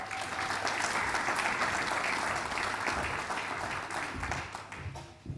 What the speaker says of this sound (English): Let's give Rick a round of applause.